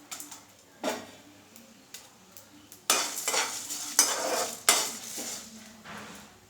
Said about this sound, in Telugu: దీంట్లోకి చింతపండు వేసేద్దాము